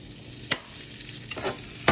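About two tablespoons of vegan butter sizzling in a pan before zucchini, squash and onions go in, a soft steady fry broken by three sharp clacks of a utensil, close and without talk.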